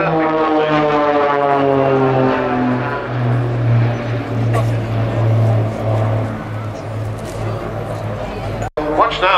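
Propeller-driven aerobatic aircraft of the Blades display team flying at the Sanicole Airshow, a loud steady engine drone with rising harmonic whine that swells and shifts as the planes pass close, continuous for the whole stretch.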